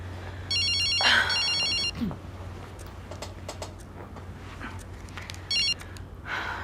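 An old Motorola phone rings in a horror film, its electronic trills sounding loud in two bursts, the first long and the second short, over a low steady hum.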